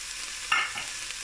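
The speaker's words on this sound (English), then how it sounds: "Now sauteing the onions" Onions sautéing in a pot for bacon potato corn chowder, a soft low sizzle with a brief louder stirring scrape in the middle, close and fairly quiet, with no talking.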